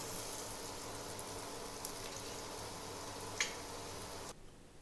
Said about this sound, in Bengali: ইন্ডাকশানের আঁচটা কমিয়ে দিয়ে আমি লাল করে পেঁয়াজটা ভেজে নেব।